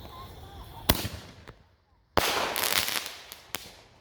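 Mini artillery shell fireworks in a backyard Fourth of July show burst in two sharp, loud booms, each followed by crackling and fizzing. A few smaller pops trail after the second burst.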